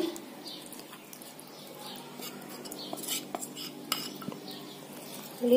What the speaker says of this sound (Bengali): সব উপকরণ একসঙ্গে মিক্স করে নিব